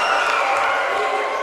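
Home fans of the Placer Hillmen roar at a high school basketball game, a dense, sustained wash of cheering and applause filling the gym at steady loudness throughout.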